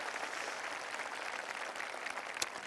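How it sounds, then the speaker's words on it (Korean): Steady applause from a large crowd at a city hall talk concert, dense and even clapping throughout the short moment with no voices over it. "우리 성남시청 공무원분들에게도 박수 부탁드리겠습니다"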